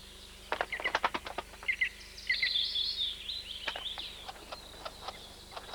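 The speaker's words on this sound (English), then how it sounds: "The chicks can hear the adult calling as it arrives with food and begin their begging call in response" Green woodpecker chicks in the nest give begging calls as an adult arrives with food: rapid clusters of sharp, high chirps and a rising, wavering chorus, close by and alone.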